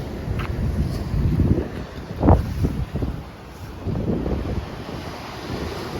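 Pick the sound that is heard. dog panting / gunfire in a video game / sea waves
sea waves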